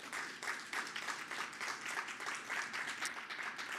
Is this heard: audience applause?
yes